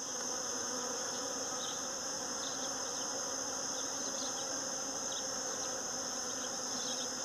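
Native bees buzzing continuously and steadily at close range as they pollinate on a farm, a dense constant drone with no talking.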